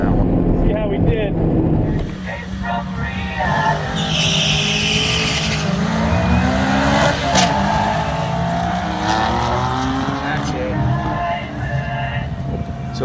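A Honda S2000 autocross car on all-season tires launches down a drag strip, engine revving hard with rising pitch sweeps through flat-foot shifts from second to third and third to fourth, loud and close throughout with a brief squeal at the start.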